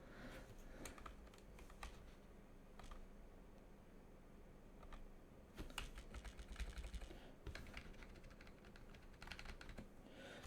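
Steady typing on a QWERTY computer keyboard during setup of a Chinese mini PC used as a firewall, with clustered key clicks and short pauses throughout, near and fairly quiet, with no talking.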